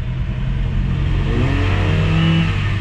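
A 2016 Toyota Avanza engine, low on power after an ignition coil and fuel pump fault, revs up steadily and holds high RPM, a loud continuous drone close by with no talking.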